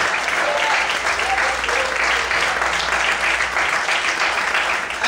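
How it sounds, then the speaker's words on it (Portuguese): A church congregation applauds loudly and steadily at an evening worship service, a dense wash of many hands clapping with some voices mixed in throughout. "Aplauda o Senhor muito forte."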